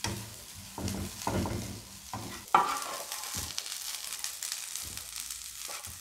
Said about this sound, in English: if you fry it in butter, it goes green and succulent again pretty quickly